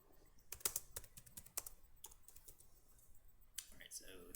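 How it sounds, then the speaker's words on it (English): Quiet, uneven clicking of keys on a computer keyboard, a slow typist tapping in short bursts with brief pauses, close and faint. "I'll let you type it"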